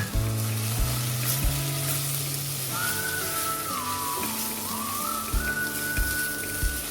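Dal lightly roasting in a pan gives a steady, close sizzle and crackle, with tonal hums running underneath and no talk.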